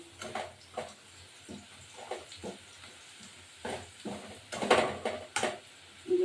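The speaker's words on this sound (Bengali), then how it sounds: "এই উপমাটা আমার রেডি এবার উপমাটা ঢেলে দেবো" Spice paste is poured and scraped into a pan for a tilapia curry, with soft intermittent stirring clatter and light sizzling at close range.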